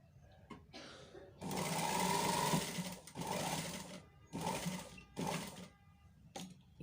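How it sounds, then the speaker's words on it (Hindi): A sewing machine stitches a neckline seam in several bursts of steady whirring, each lasting one to two seconds, with short pauses between them. The sound is close and moderately loud, with no talking. "ये बीच तक हमारी हमने सिलाई लगा ली।"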